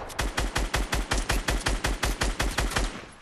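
A steady burst of about seventeen evenly spaced gunshots from Fortnite, loud and close, fired in a fast automatic rhythm with no talking.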